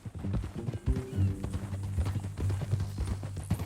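Horse hooves clip-clop steadily through the whole stretch in Red Dead Redemption 2, close and fairly loud, with a low rumbling bed underneath and a brief whinny-like burst partway through.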